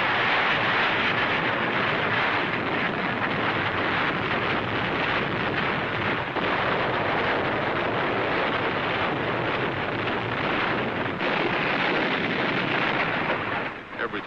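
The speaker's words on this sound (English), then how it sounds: "our naval vessels open fire, and for 4 solid hours, they pound Tarawa with high explosives." WWII naval gunfire bombarding Tarawa with high explosives: a continuous, loud, dense roar of rumbling blasts and booming noise, sustained without pause throughout.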